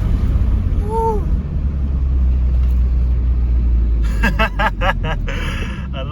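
400hp Volkswagen Golf GTI engine pulling hard with a deep, loud rumble, then a burst of rapid rising-and-falling tones late on as it surges through the gears, with whoops and a voice over the engine.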